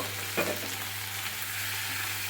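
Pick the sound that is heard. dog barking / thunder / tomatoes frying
tomatoes frying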